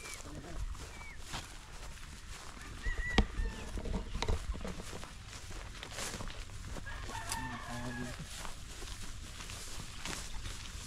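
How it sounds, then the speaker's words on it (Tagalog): Chickens cluck and call around the listener on a chicken farm, with a rooster-like cry and scattered clattering noises over a faint background hum. "Daming manok oh."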